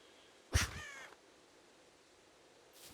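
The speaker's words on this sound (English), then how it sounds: "Really, crow? Really?" A single crow caws in SCUM, a loud, slightly harsh call just after the half-second mark, fading quickly into quiet outdoor ambience with a faint second sound near the end.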